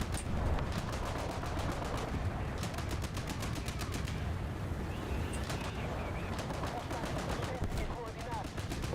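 Anti-aircraft guns fire in War Thunder, rapid bursts of rattling gunfire crackling steadily over a noisy battlefield, with a voice talking underneath.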